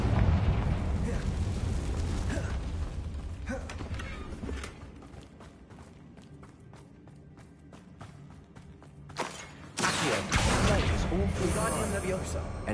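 Confringo blasting spell in a Harry Potter video game, heavy rumbling explosion bursts at the start and again near the end with a quieter stretch between, over game ambience.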